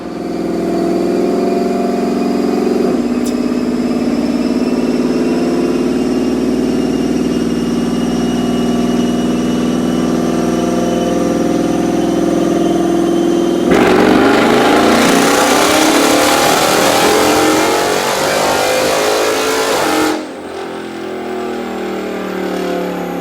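Dodge SRT 392 V8 with a new cam on a dyno, holding a steady loud engine drone for about thirteen seconds, then surging into a harsher, louder rev for several seconds before abruptly cutting back down.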